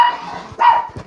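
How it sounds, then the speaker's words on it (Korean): A dog indoors lets out a few short barks and yips in quick succession, fairly close and loud, during a casual gaming session. "지금 왜냐면 개가 너무 짖혀가지고."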